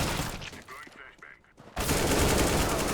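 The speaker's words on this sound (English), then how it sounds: "use the overpowered 5-7 and try to mow down as many of them as possible from close" Five-Seven pistol fire in CS:GO, a rapid close-range burst of shots that erupts loud and dense after a brief quieter stretch, continuing to the end without talk.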